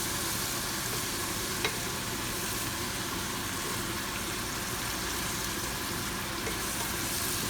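Scallops, prawns and squid are tossed in a hot pan, giving a continuous close sizzle and frying hiss with faint stirring scrapes, steady throughout and without voices.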